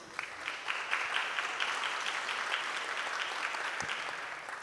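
Strong applause from the audience at a book presentation on indigenous and Afro-descendant political-electoral rights, dense clapping that holds steady for several seconds and eases off slightly near the end.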